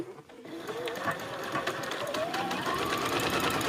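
A sewing machine runs steadily while stitching a boxy bag over a branding tag, its continuous whirring motor hum close and even, with a short pause at the start and faint voices underneath.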